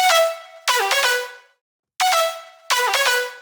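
Synth notes that glide down in pitch and back up, played in two short phrases separated by a brief silence, bright and clear.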